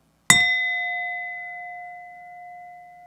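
A clock bell strikes once, a sharp metallic hit followed by a clear, sustained ringing tone that slowly fades over about three seconds, alone and close.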